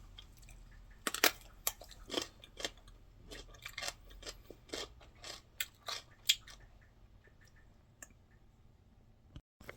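Crisp bites and crunchy chewing of a raw pickling cucumber picked from a home garden, a run of close, sharp crunches that thin out toward the end, with no talking.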